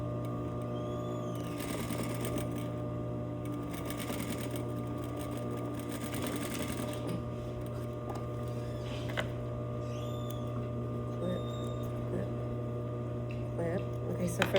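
A sewing machine runs steadily through bias binding, its motor hum and fast stitching rhythm continuous and close throughout, with occasional small clicks and handling noises.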